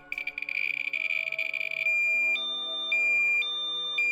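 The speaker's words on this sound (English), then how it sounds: "We get 2 alarms" A Thermo Scientific RadEye SPRD-GN radiation detector alarm sounds: a loud continuous warbling tone, then a steady tone broken by short, regularly spaced higher beeps.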